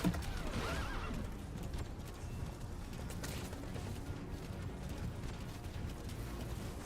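A horse whinnies near the start in the video game Metal Gear Solid V: The Phantom Pain, then hooves clop along steadily over low rumbling background noise, close and continuous.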